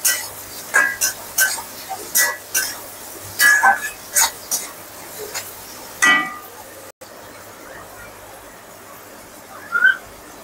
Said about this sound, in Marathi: आता हलवून घेऊया मीठ टाकून